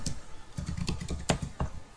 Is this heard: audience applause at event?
no